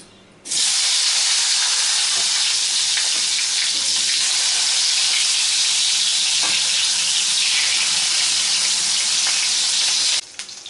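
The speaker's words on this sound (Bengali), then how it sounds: "সেই তেলে এবার আমি বেগুনটা ভেজে নেব" Two small brinjals frying in oil in a kadai: a loud, dense sizzle and hiss bursts in right away and holds steady for about ten seconds before cutting out.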